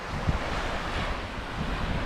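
Surf washes continuously onto a beach on the Ningaloo Coast at Coral Bay, a steady broadband roar mixed with wind buffeting the microphone, with no talk.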